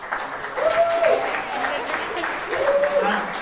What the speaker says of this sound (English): So can we give all our heads of school a big round of applause?